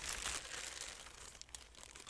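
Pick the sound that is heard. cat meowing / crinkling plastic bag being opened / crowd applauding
crinkling plastic bag being opened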